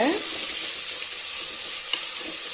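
Onion, chili and curry leaves crackle in hot oil for a gongura kadaiyal base, a loud, even sizzle heard close up with a faint stir or clink partway through.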